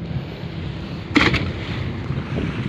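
Steady wind buffets the microphone over a broad rushing wash of sea waves and boat engine noise at an anchorage, with a brief splash or knock in the middle.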